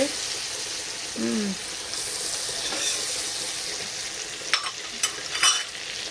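Fish fries in oil with a constant, fairly loud sizzle and crackle, joined near the end by a few clinks of stirring against the pan.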